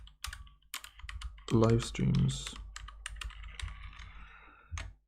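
Typing on a dirty computer keyboard during a live stream, with scattered key clicks running under a person speaking nearby.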